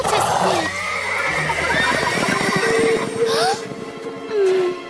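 A horse neighs loudly and at length, its whinny rising and falling, with hoof clatter and some background movement.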